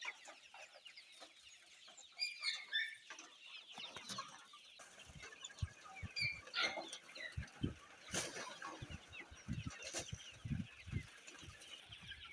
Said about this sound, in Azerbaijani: Benim cüzələrimizə yem verəcəyik.